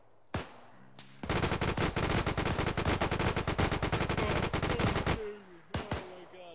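Video game gunfire in a D-Day battle: a long, dense burst of rapid machine-gun fire lasting about four seconds, bracketed by isolated single shots before and after, loud and close.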